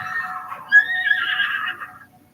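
A horse in Zelda: Breath of the Wild gives one loud, close whinny lasting about two seconds, trembling and high, then fading to silence.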